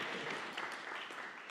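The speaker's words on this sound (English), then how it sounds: "let's give them another round of applause," Audience applause for speakers at a breakfast talk event, a soft, steady wash of clapping from a crowd, heard faintly and alone.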